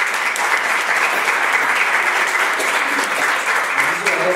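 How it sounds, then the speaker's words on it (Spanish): Sustained audience applause at a panel event on liberty values, a dense, steady wash of many hands clapping close and loud throughout, with no pauses. "un fuerte aplauso"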